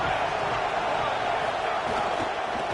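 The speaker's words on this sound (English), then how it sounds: "This crowd bringing the energy and noise early." A dense, steady roar from a stadium crowd in a college football video game, a home crowd at Washington facing South Carolina, fills the short stretch at constant loudness with no distinct cheers standing out.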